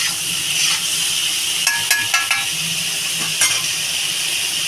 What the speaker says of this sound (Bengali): এদিকে সামান্য একটু ধনে গুঁড়ি দেবো আর একটু জিরা দেবো তরকারিটা ভালো করে ভেজে নেবো